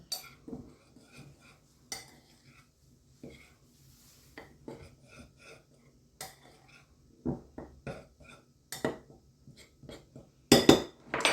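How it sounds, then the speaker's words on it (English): A spoon stirs dry donut ingredients with cinnamon in a bowl, making a series of light clinks and scrapes against the bowl in irregular bursts, fairly quiet and close, with a sharper clatter near the end. "Just going to stir that up a little bit and put that aside for a minute."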